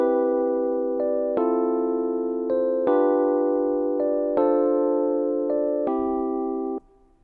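A chord progression on a sustained keyboard-like instrument, with a short passing note added at the end of each chord to lead into the next; steady held chords change every second or so, clean and close, with no voices.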